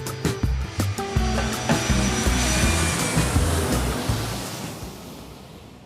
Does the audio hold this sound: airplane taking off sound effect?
yes